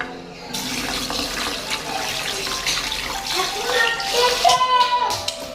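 A kitchen tap runs while thawed shrimp are rinsed, a steady splashing flow with shifting gurgles as water hits the shrimp and sink, close and fairly loud.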